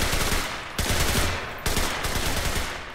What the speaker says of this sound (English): finally we get to do some shooting on the last point